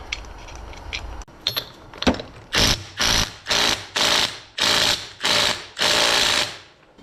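A ratchet wrench tightens the big nut on a Johnson Iron Horse X-401 small engine, clicking in eight or nine loud, close, even bursts after a few softer metallic clinks.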